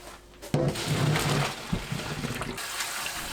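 Blanched chamnamul greens rinsed under cold running water, with a close, steady splashing gush from the tap that swells and then continues as a softer trickle, with no talk.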